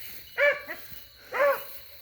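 An older dog barks twice in the background, about a second apart, each bark short and clear against a quiet outdoor setting during a rabbit hunt.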